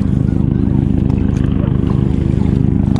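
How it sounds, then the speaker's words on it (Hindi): A coast guard helicopter's steady, loud low-pitched rotor drone with a rhythmic chop fills the scene as it passes close overhead at sea off Juhu Beach, with water sloshing faintly underneath. "ये कोस्ट गार्ड का हेलीकॉप्टर ऊपर से जा रहा है, you can hear the sound."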